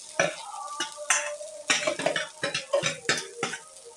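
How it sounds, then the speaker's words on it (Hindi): Potatoes frying in a pan with a little oil for a semolina breakfast, with sharp repeated scraping and clinking of a spatula stirring over a low sizzle, close and busy throughout. "अच्छी तरह आलूओं को हम भून लेंगे।"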